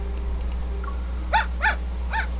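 A little dog in the video game Love and Deepspace gives three short, sharp yapping barks in quick succession, close and clear over a steady low hum, with no talk.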